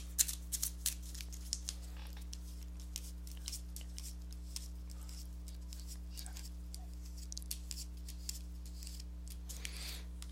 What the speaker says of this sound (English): Let me give these cards a shuffle